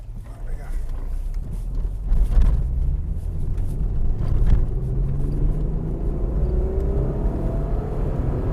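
A VW Golf VR6 on Koni STR.T suspension rumbles over railway tracks, a low droning road noise with a couple of dull thumps and rising engine tone, while someone talks over it.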